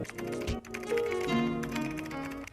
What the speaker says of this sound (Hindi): देख रहे हो उसमें एक टाइपिंग इफेक्ट आ चुका है